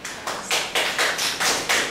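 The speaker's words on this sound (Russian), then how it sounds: "Мне хлопать прям нравится." Audience clapping at a poetry reading in a basement venue, a run of about seven rhythmic bursts of hand claps, fairly close and moderately loud, with no speech.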